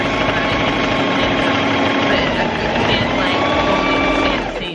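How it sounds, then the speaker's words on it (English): A sewing machine runs steadily and loudly for several seconds, stitching along the waist of a pair of pants, sewing straight and then reversing, winding down at the end. "So like I'll sew straight about an inch and then reverse."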